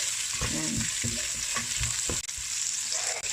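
Pork belly with black pepper sizzles in a pan while being stirred, a close, continuous frying hiss broken by several scraping stirs of the spatula, with no talking.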